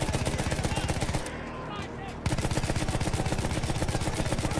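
Mounted First World War machine gun firing in Battlefield 1, rapid loud rhythmic bursts of automatic fire with a short pause in the middle, no talk.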